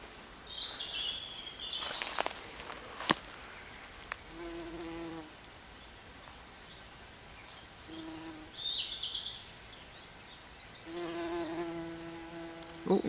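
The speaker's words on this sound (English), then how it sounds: "I can hear bees. Oh, there's a bee, a bumblebee bee." A bumblebee buzzes in an ancient woodland on a quiet common. The hum comes and goes in a few passes, near then fading, and birdsong sounds faintly around it.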